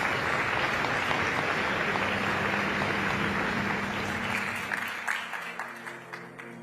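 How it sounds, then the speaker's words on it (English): Audience applause at the COP28 UN climate change conference, a broad sustained roar of clapping from a large hall that thins in the final seconds into scattered individual claps. "let's please give the Industrial Transition Accelerator partners a very, very warm round of applause."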